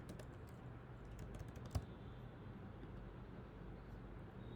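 Quiet typing on a computer keyboard, a faint run of light key clicks with one sharper tap, heard close against a low steady background hum.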